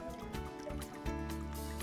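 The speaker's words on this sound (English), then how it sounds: "I'm gonna let that water drip off." Water drips and trickles off a tilted papermaking mould freshly lifted from pulp, a faint, close patter of small drops running on without a break.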